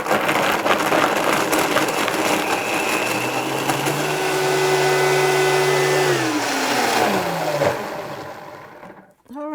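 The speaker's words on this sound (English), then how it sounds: "I'm blending this in my blender on the smoothie setting" A blender on its smoothie setting purees vegan cheese thinned with Rejuvelac, a loud steady motor whir with rising and falling tones that winds down near the end, with no talking.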